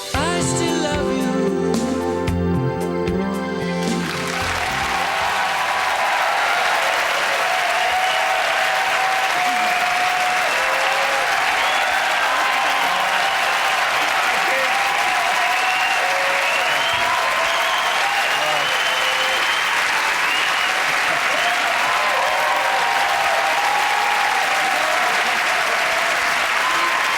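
After a song ends on a television show, the final sustained musical notes fade quickly into a long, loud, dense round of audience applause that carries on evenly for more than twenty seconds.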